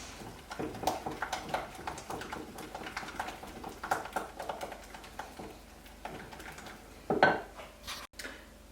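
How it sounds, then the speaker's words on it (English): A spoon stirs mug cake batter with vanilla extract and vegetable oil, giving soft irregular scraping and clinking against the mug, fairly quiet and close, with a brighter clink near the end. "Once again, just mix it a little more."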